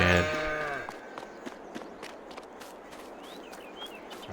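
A cow on a farm in Farming Simulator 22 gives a brief, close moo that fades within a second, followed by soft scattered ticks and faint ambient farm noise.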